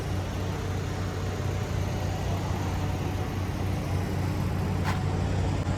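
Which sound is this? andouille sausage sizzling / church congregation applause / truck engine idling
truck engine idling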